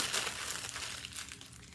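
Newspaper being crumpled by hand to stuff a hollow orb, a close, continuous crinkling and rustling that stays loud throughout with no talking.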